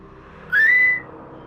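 A single thin, wavering whistle rises briefly and fades out after about half a second, heard alone over a faint low hum.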